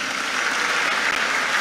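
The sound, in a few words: audience applauding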